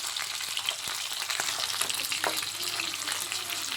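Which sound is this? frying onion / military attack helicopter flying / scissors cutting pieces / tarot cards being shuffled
frying onion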